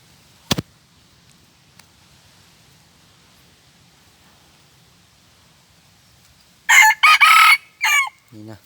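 Near, loud crowing from a decoy game cock used to lure wild junglefowl: a sharp knock, then quiet for several seconds before one long multi-part crow ends the stretch.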